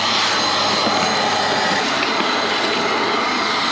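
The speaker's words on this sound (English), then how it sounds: "Right, so I'm just warming the engine up." Audi A6 engine idling while warming up, a steady, loud, unbroken drone with a broad hiss across the whole span, no speech over it.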